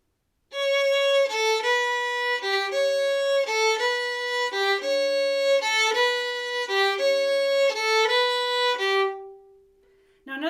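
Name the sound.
violin playing a practice passage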